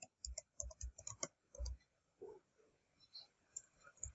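Quiet clicking of a computer keyboard as an address is typed into a web browser, a run of separate keystrokes in uneven bursts with short pauses, close by and with no talking.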